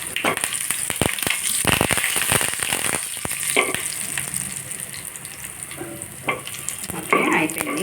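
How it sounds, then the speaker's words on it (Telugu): Mustard seeds, cumin, dried chilies and curry leaves sizzle loudly in hot oil with sharp popping crackles and clattering stirs, close up, fading toward the end. "చిట్పట్లు ఆడుతున్నాయి కదండి ఆవాలు"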